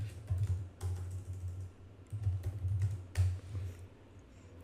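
Rapid clattering keystrokes on a computer keyboard at close range, coming in uneven bursts with brief pauses between them and no voices.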